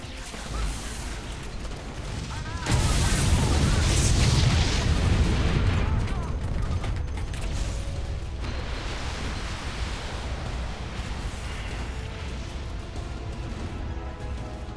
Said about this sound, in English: while the cutscene of the missile firing is playing